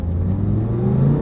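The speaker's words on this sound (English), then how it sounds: "Squeeze onto that throttle and go." An Audi R8 race car on a Las Vegas track accelerates hard, its engine droning with a steady rising pitch, close and loud with no talk over it.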